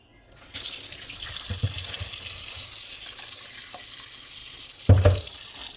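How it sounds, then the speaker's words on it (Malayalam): Tap water pours steadily into a pan holding mackerel for a cooking dish, a continuous close rush with a few clunks and a louder splash near the end. "അത് ചട്ടിയിൽ ഇട്ട് കൊടുത്ത് നമുക്ക് വെള്ളം കൊടുക്കാം"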